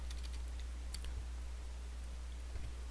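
Computer keyboard keys pressed for Alt+Tab window switching, a few light, sparse clicks over a steady low hum, faint and close, no talking.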